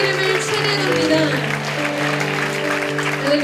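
A church congregation applauds and cheers in a steady, dense wash of clapping, with sustained tonal voices or music ringing through it at an even, loud level.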